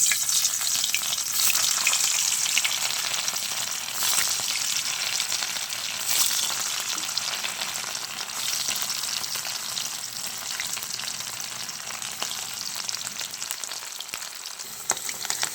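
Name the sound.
paneer cubes frying in hot oil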